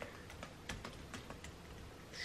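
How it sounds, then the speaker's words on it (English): Typing on a computer keyboard: a quick, quiet run of individual key clicks in an irregular rhythm, close and isolated with no talk. "excuse the typing"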